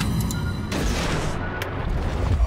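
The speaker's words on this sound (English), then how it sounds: "I'm gonna lob some torpedoes off there" Torpedoes launched from a warship in the World of Warships naval game, a dense booming rumble that surges loudly and holds steady for a couple of seconds with heavy low-end roar.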